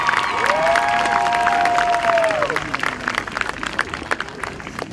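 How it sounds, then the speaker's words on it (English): Crowd applause and cheering at a high school football game halftime for the homecoming court, steady clapping from a large outdoor crowd with a sustained whistle or horn tone early on, tapering into lighter scattered claps. "I have one more round of applause for our entire 2015 homecoming court."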